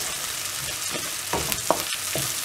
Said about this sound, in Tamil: பச்சை மிளகாய் ஆட் பண்ணிவிட்டு இதை வதக்கி விடுங்க.